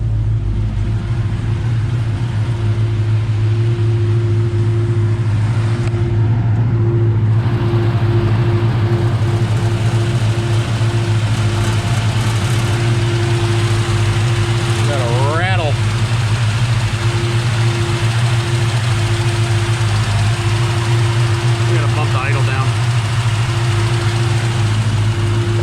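A 1966 Chevy Nova with a four-speed Muncie manual, dirty from sitting, idles steadily with a deep, even rumble and a droning hum, running continuously close by while someone talks briefly.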